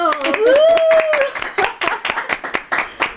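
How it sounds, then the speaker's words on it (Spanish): Audience claps in a brisk, rhythmic run of sharp, distinct claps, nearly in unison, after a voice rises in a drawn-out exclamation at the start. "¡Un aplauso!"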